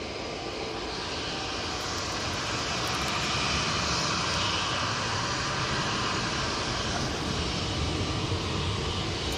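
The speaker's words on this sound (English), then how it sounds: "Junyao, 787-9 Dreamliner, short finals, 2-3 right." A Boeing 787-9 Dreamliner on short final to runway 23 right at Manchester Airport roars past during a storm, a loud, continuous broadband jet rumble swelling slightly midway, heard alone without talk.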